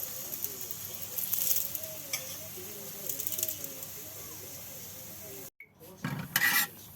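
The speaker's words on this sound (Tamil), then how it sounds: "திருப்பி போட்டுட்டும் இப்படி கொஞ்சம் சுற்றி எண்ணெய் கொஞ்சம் விட்டு கொள்ளணும்" A roti fries in oil on a pan, giving a soft, steady sizzle, with birdlike chirps in the background and a few louder clatters near the end.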